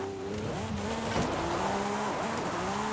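A Lamborghini on wide drift tires slows hard under the handbrake in Forza Horizon 5, its engine note dropping and wavering steadily at close range with faint tire scrub underneath, no voices.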